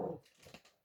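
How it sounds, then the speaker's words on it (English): A small dog gives a single short bark at home, fairly close and loud at the start, followed by faint whimpering or grumbling sounds that trail off. "My dog was barking."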